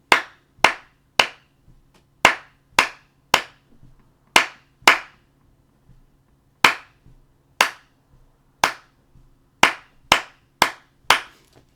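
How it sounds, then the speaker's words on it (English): Sharp, crisp hand claps ring out about seventeen times in an uneven syncopated rhythm, each isolated and close against a quiet background with faint hum and no talking. "So let's go ahead and clap with me, okay?"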